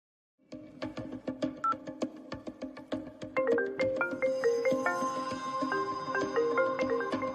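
A telephone keypad beeps through a quick run of dialing tones, then a steadier melodic ringing tone takes over, clear and close with no voices.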